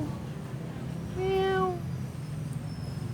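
A plump cat squabbling over food lets out a single clear, drawn-out meow about halfway through, over low background noise.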